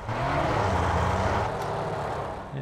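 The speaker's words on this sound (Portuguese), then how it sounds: "É, tá com motor V8, tá ligado?" The V8 engine of the boss's chariot car in Mad Max drones steadily, a loud, rumbling engine hum holding for a couple of seconds before easing slightly.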